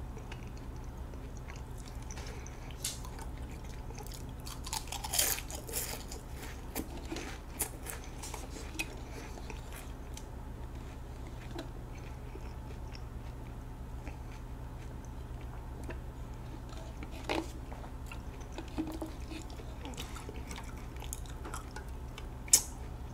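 Crunchy snacks being eaten in a quiet room, with sparse, close crunching bites scattered through long near-silent stretches and no talking.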